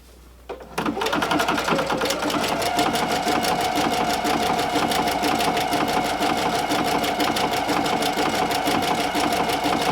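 A sewing machine stitches the hem of a black and white shawl on stitch setting 15. After a brief quiet start it settles into a loud, steady, fast mechanical chatter that runs without a break.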